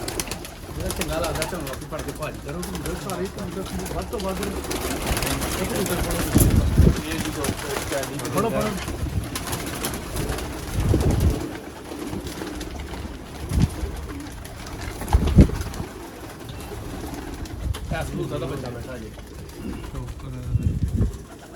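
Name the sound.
pigeons cooing on a Sialkot rooftop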